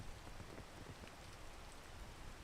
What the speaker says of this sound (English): Let's wait for the rain to go away.